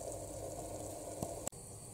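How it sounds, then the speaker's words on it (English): Chickpeas and paneer simmer in a clay pot, giving a faint, steady bubbling hiss with one sharp click near the end. "Boil nicely."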